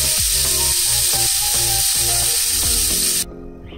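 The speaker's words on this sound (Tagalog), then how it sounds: "On the same pan, lagyan nyo lang ng butter." Butter sizzling in a hot pan for caramel toasted bread, a loud steady crackling hiss that runs unbroken and then cuts off abruptly near the end.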